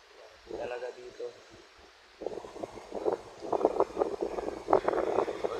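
Strong storm wind roars through trees in gusty, fluttering bursts that buffet the microphone, growing louder after a brief lull, with a person talking over it.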